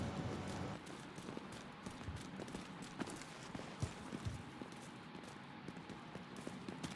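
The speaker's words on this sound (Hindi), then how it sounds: "पैरों की आवाज आ रही है, धार धार।" Footsteps in The Division 2, a steady run of soft, separate thuds and scuffs over a low hum of game ambience, with no talking.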